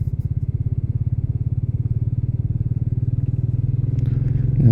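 A Royal Enfield Meteor 350 motorcycle thumps along steadily at a fast, regular pulse, its single-cylinder beat holding even, then building slightly louder near the end as the bike pulls out to overtake.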